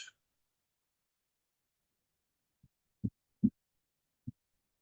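Soft, low heartbeat thumps arrive after a silent stretch: a faint first beat, then a stronger pair and one more, muffled and close, with no talking.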